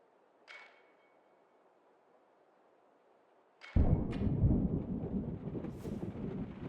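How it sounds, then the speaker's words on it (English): A loud thunderclap from the video game Rue Valley breaks a quiet scene with a sudden heavy rumble that rolls on for several seconds, after a few faint earlier cracks. "The sound of the loudest thunderclap jerks you out of your slumber"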